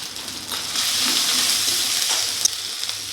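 A masala of garlic paste, ginger paste, chili powder, turmeric, tomato, salt and a splash of water sautés in a pan for a fish head dish, giving a steady close sizzle with a soft bubbling wash and one small click.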